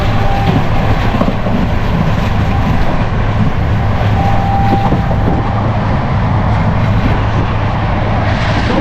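Steady loud rumbling roar of a sleeper train in India running on its tracks, heard near the open door, a continuous noisy wash with no voices.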